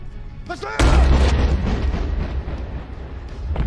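A gunshot blasts loudly in a dramatic film scene, followed by a long rumbling boom that fades slowly across several seconds.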